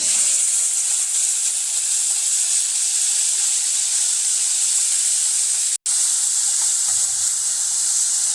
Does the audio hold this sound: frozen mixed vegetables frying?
yes